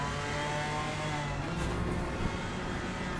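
BMW race car engine in a GT4 racing video game at Mount Panorama, accelerating hard with a rising, sustained roar over the full few seconds.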